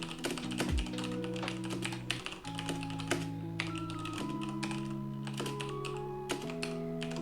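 Quick, uneven keystrokes clatter on a computer keyboard, a steady run of light taps over soft background music, with no one talking.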